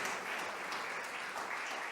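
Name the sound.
audience applause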